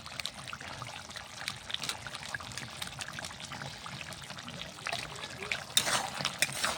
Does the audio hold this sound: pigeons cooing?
no